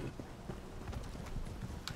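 Horse hooves clip-clopping in Elder Scrolls Online, a quick run of soft, fairly faint hoof beats over a dull background, with no talking.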